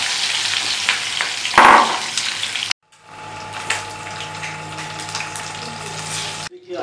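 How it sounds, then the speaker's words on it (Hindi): An egg deep frying in hot oil in a pan for an egg and boiled potato curry, a loud continuous sizzle with a brief sharp burst, then a cut to a quieter bubbling fry with a faint hum. "पैन गर्म होने के बाद इसमें अंडा को छोड़ना है। अंडा को थोड़ा डीप फ्राई करना"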